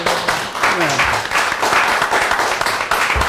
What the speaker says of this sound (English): Now, let's have some more applause for all of them.